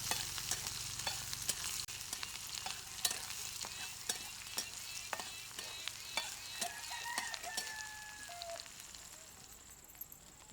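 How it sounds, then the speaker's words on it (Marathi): Onion and curry leaves frying in a pan give off a soft, continuous sizzle dotted with frequent sharp crackles and light spoon scrapes as they are stirred. The sound is quiet and close, with no talking. "आता कढीपत्त्याचे पानं, कांदा, हे आता फिरवत राहा असं"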